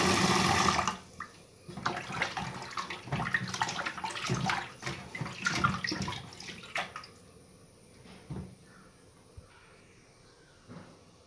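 Tap water runs hard and splashes for several seconds while cut fish is washed, mixed with clatter and handling noises, then trails off into quieter drips and splashes.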